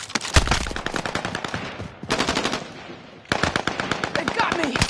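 Rapid bursts of machine gun fire from a Call of Duty match, loud and close, coming in long sustained volleys with a short pause between them.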